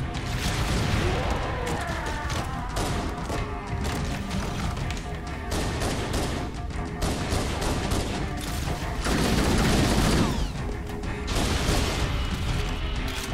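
Dense, continuous gunfire and crashing impacts from Halo CE combat fill the whole stretch, loud and busy, with faint talk underneath.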